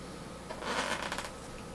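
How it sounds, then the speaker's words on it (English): A Nintendo 3DS Zelda bundle box is ripped open, its glued packaging giving a brief, close tearing and crinkling burst with no talking. "gotta rip it open"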